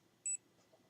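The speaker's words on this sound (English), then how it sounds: "My thing beeped." A single short electronic beep from a small personal device, clean and fairly faint, standing out briefly over low background hum.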